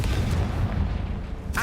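Confringo spell explosion in the video game Hogwarts Legacy, a dense, rumbling burst that fills the moment, with a fresh blast starting at the end.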